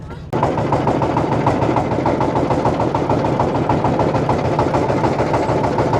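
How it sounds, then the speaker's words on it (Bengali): A boat's engine on the Padma river near Rajshahi kicks into life with an abrupt start, then settles into a loud, steady, rhythmic chugging close by. "আমাদের নৌকা স্টার্ট হলো, এখন আমরা টি বাঁধ থেকে রওনা দিচ্ছি।"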